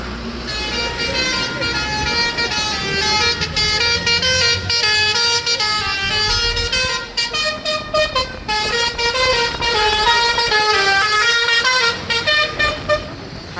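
Highway traffic rolls past loudly and close, with buses and cars passing while horns honk in repeated tonal blasts that stack up almost continuously, and a few voices can be heard in the background.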